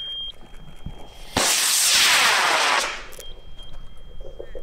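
Launch of a 50-pound high-power V2 model rocket on a CTI M1675 motor: a sudden loud, sustained roaring burn of about a second and a half, cutting off abruptly to a faint background with a steady electronic tone.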